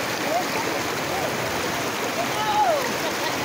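River water flowing steadily in a broad, even wash at a Philippine river where people are bathing, continuous and close with no pauses, a couple of faint birdlike whistles rising briefly above it.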